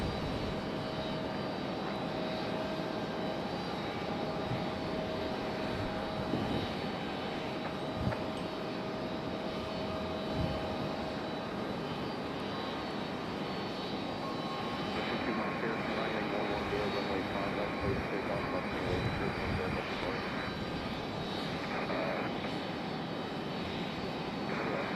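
Jet airliner engine roaring at Raleigh-Durham International Airport, a steady, sustained drone heard from a distance near the runway, with a faint voice speaking underneath.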